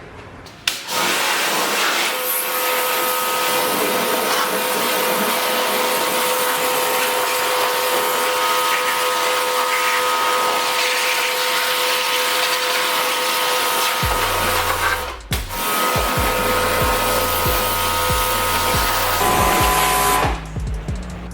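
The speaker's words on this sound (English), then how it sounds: "I'm just gonna rinse it off and do the second hit" A water spray rinses a car engine bay at home, a loud, continuous rushing hiss that dips briefly once and resumes, with a low mechanical drone joining in toward the end.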